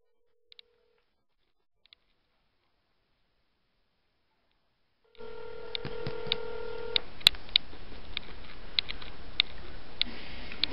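Telephone keypad being dialed for a prank call: a couple of isolated tones, then after a quiet stretch a run of separate key tones over line hiss and faint clicks, close and clear, with no voices.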